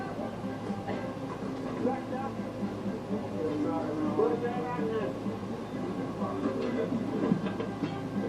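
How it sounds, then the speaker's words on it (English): A heritage steam train running on rails on a short return trip to Avachar, a steady rumble of wheels and wagons with faint clickety-clack, close and continuous, while people talk over it. "The train is ready, and the short trip back to Avachar begins."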